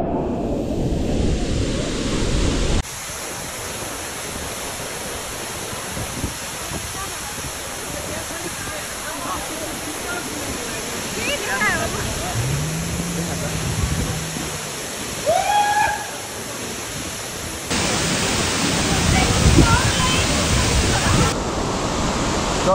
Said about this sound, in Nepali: After 20-30 minutes of hike we reached to Jaljala Jharna